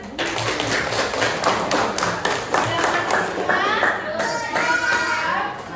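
Children in a classroom clap in a quick, rhythmic pattern of taps and thuds, with young voices chattering alongside the claps.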